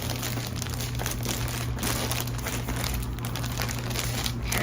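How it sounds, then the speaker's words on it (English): Plastic yarn bag crinkling and crackling steadily as it is handled and torn, a continuous close rustle with no talk over it. "I know I can totally tear the bag"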